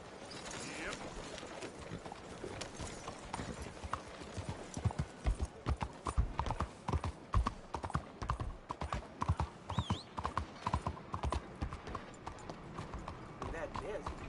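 Horse hooves clip-clop in a steady, near rhythm across a video game soundtrack, louder and denser toward the middle, with a horse whinny and a character's voice heard over them.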